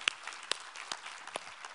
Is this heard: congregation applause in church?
yes